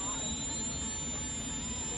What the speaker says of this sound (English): Got plenty of puff with a Kingtech K320 turbine.